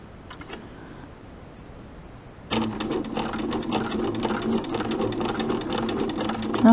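A sewing machine stitches quilting lines around the inside edge of a mini quilt square, starting after a quieter stretch of faint ticking and then running as a continuous close mechanical whir and rapid needle tapping.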